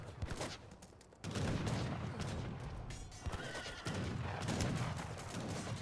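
Cavalry horses whinny in an Age of Empires III battle, loud neighs over hoofbeats, musket volleys and gunfire that keep going without a break.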